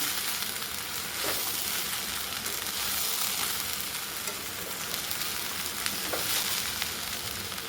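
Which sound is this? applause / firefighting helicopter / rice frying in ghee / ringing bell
rice frying in ghee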